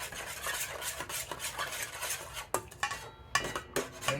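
A spoon scrapes and clinks around a bowl as carne asada marinade with cilantro is stirred, giving irregular close metallic knocks and wet swishes that pause briefly and then resume.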